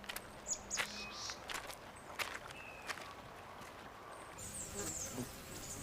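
A scout hornet buzzes near a colony of wild honeybees in autumn. Faint insect drones come and go close by, with soft rustling and small taps under them.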